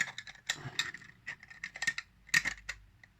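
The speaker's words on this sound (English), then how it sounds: "we're just going to screw them both in like that" Small screws being driven into plastic parts of a Terminator model kit, producing a close series of brief clicks, ticks and scraping ratchet-like sounds in irregular bursts, with no talking.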